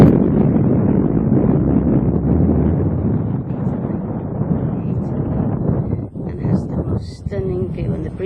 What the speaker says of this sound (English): a lovely ocean breeze is just here